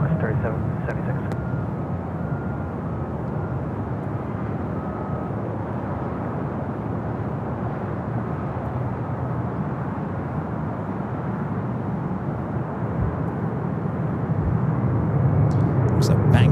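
An airliner takes off at Los Angeles airport (LAX), a continuous broad jet roar that builds gradually toward the end, with radio voice chatter faintly audible over it.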